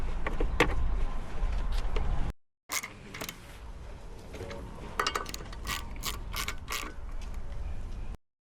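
Ratchet and hand tools working on a 2018 Honda Goldwing fairing being fastened back in place: close, busy mechanical clicks, rubs and clunks in bursts, with a brief dropout near the start and several sharper ratcheting bursts later.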